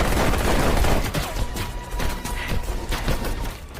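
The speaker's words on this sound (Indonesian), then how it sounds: "Duki pun menembak kepala Josino." Gunfire in the action film The Protege, a rapid series of sharp, loud shots with crashing impacts, close and dense, without speech.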